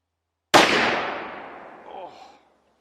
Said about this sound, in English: looks like she's still shooting high on the right barrel